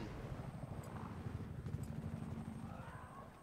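In Battlefield 4, a Little Bird helicopter's rotor thrums steadily and faintly as a continuous low chop under the game's ambient noise.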